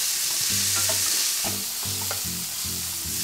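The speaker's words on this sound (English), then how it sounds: "Our pork is roasting along." Pork roasting in a pan gives a continuous close sizzle, with stirring under it and steady tonal notes running alongside.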